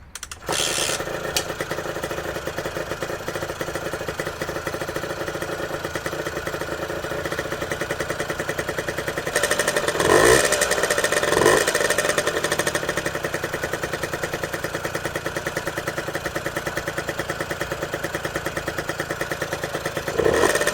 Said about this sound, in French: je tourne le contact et on regarde si ça démarre